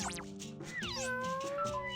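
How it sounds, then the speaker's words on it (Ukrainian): A cartoonish cat meows in the puzzle video game Chuchel, giving several bright, pitch-sliding mews over a busy, tonal game soundtrack, with no talking. "Той нявкає."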